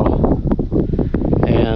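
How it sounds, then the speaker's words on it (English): Strong wind sweeps across the RC flying field in a loud, gusty rumble on the microphone, with someone talking over it. "It's really too windy to fly."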